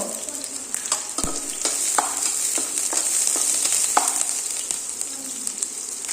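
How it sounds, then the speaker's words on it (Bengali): Onion and chilli frying in a pan, with a steady close sizzle broken by the scrape and tap of a stirring spoon throughout. "পেঁয়াজটা ভাজা ভাজা হোক"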